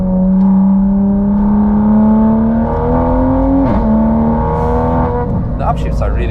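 A 910 HP hybrid turbo Toyota Supra on the Nürburgring roars close and loud, its engine note climbing steadily, dipping once at a gear change, then pulling up again with crackles near the end.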